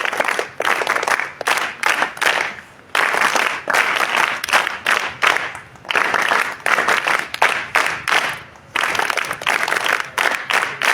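An audience at a motivational talk claps together in short rhythmic bursts separated by brief pauses, the dense clapping loud and close throughout.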